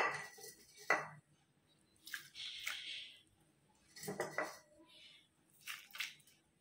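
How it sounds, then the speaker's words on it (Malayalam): A spoon clinks and scrapes inside a pot while stirring a Kerala-style fish and mango curry with ground coconut, in a few separate quiet bursts of metallic scraping and wet squishing, close by. "നല്ല പോലെ ഒന്ന് ഇളക്കി കൊടുക്കാം."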